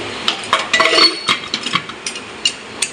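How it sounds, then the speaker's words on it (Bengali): A lid set onto a cooking pot while dried fish curry cooks, giving a cluster of sharp metallic clinks and clanks, loudest early on, then scattered lighter taps of metal against metal. "ঢাকলাম আবার ঢাকনাটা বন্ধ করে দিয়ে"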